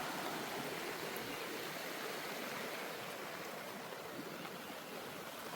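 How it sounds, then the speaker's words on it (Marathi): A village river in Kokan flowing in the rain, a steady broadband rush of water that holds constant and fairly loud throughout, with no pauses. "आय होप आवाज येत असेल नदीचा."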